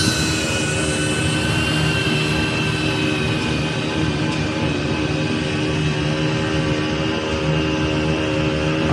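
A DJI Avata FPV drone in flight gives a steady, loud whirring drone with a bright high whine, constant and unbroken throughout with no talk.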